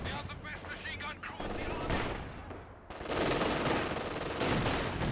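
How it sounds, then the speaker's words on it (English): Loud, dense battlefield gunfire and blasts from a real-time strategy war game, with a heavy burst partway through among sustained shooting that keeps roaring to the end. "Was that a grenade? No? Oh, grenade from the lieutenant."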